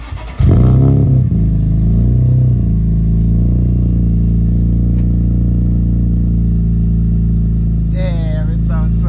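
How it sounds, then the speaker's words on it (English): A turbocharged M52 engine in an E30 car, rated 515 wheel horsepower, revs hard through a single exhaust tip, rising and falling as it climbs to a steady throaty roar, with a higher whine near the end. "This thing only has one exhaust tip, but it sounds so good"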